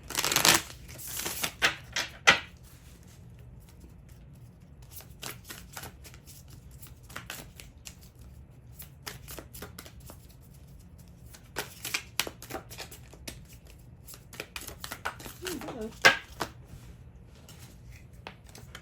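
Oracle and tarot cards are shuffled by hand, soft riffling and flicking bursts that come and go over a quiet background, with louder flurries at the start and near the end.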